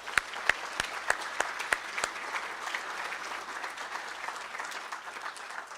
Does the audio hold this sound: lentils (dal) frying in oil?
no